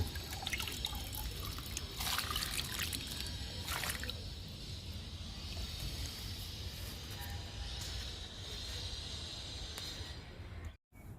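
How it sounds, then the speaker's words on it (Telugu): Liquid fertilizer poured onto flowering plants such as hibiscus, a quiet, steady trickle of liquid running on and off with faint splashing and a short gap near the end. "ఈ లిక్విడ్ ఎన్ని మొక్కలకు సరిపోతే అన్ని మొక్కలకి ఇస్తున్నా"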